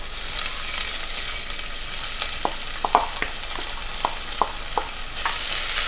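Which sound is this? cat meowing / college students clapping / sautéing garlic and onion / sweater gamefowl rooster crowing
sautéing garlic and onion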